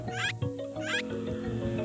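A kitten creature in the video game Dofus Retro gives two short, close meows over a sustained musical game backdrop, with no talking.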